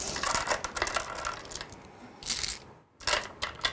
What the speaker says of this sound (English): They sound so nice, the Titans dice.